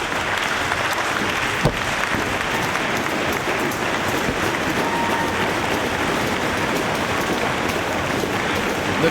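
At a professional wrestling show in Chicago, the arena crowd applauds in a continuous, hissing wash of clapping that holds steady throughout and sounds somewhat distant.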